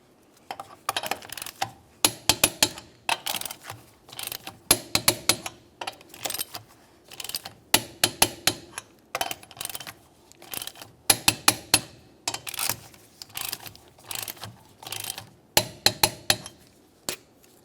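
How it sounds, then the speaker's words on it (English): A torque wrench tightens the wheel lug nuts on a 2006-2011 Honda Civic to 80 foot-pounds. It gives a long series of sharp metallic clicks in quick clustered bursts, close and distinct, with short pauses between nuts. "we'll continue on torquing these to 80 foot-pounds in a crisscross manner"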